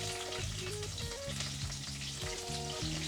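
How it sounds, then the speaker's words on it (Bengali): Red amaranth stems and potatoes fry in a pan with a steady, close sizzle, broken by soft stirring scrapes that repeat a few times. "আলুগুলো আর লাল ডাঁটাগুলো দিয়ে দিলাম। একটু হালকা করে ভেজে নেব।"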